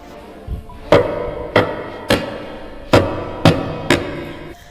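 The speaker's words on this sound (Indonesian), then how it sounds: "Kali ini begitu kagetnya Lia, karena ketukan itu berasal dari pintu kamarnya." Knocking on a bedroom door in a horror story, six sharp hollow knocks with a faint softer tap first, spaced irregularly about half a second to a second apart against a quiet room hum, no voices.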